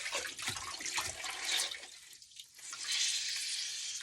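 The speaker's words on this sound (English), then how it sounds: "I'm going to dip it in a bucket, my window cleaning bucket of water here." Chamois being dipped into a window cleaning bucket of water, giving a brief, soft sloshing and splashing, then trickling and dripping water, close and fairly quiet with no voice over it.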